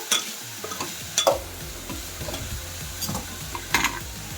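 Onions and drumstick pieces fry in oil in a pan, a steady near sizzle with intermittent scraping stirs and clinks of the spoon against the pan, no voices.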